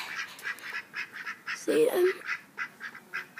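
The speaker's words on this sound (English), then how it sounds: "I got ducks, right?" Ducks quacking in a garden, a short burst of a few quacks near the middle over faint background noise, while a person talks nearby.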